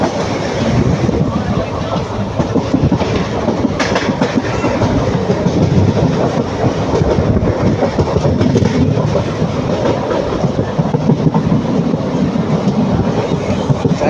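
An Intercity Express train running from Erode to Palakkad through hilly forest country, heard from on board as a loud continuous rumble with rhythmic clickety-clack of wheels over rail joints throughout.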